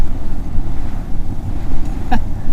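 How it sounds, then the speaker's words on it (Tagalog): Strong wind buffets the microphone on a motorcycle trail ride with a KLX, a loud continuous roaring rush with gusty swells and a short chirp near the end. "So sobrang lakas ng hangin."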